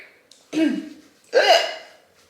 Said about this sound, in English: Burp break.